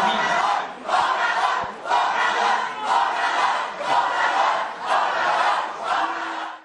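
Students at a university event booing in loud, sustained waves from a large crowd, each swell of jeering rising and fading with short dips between.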